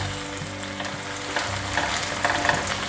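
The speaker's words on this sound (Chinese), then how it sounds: "我又再煎了10秒左右，反过来，这时候焦感已经出来了" Steady sizzling of food frying in a pan, close and continuous, with a few soft scrapes and clinks near the end.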